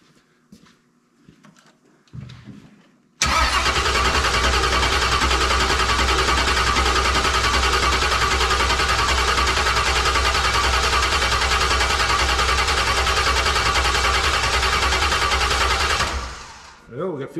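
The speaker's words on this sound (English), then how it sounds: "Time to see if it'll fire up in the car." A 383 stroker V8 engine, newly installed in a car, cranks briefly, then catches and roars into a loud, steady idle that runs for over ten seconds before cutting off.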